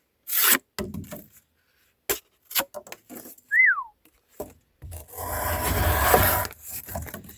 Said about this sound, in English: This knife slices through the cardboard way better than a knife of this size should